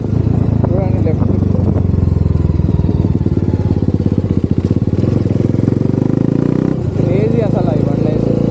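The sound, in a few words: modified TVS Apache RR310 motorcycle riding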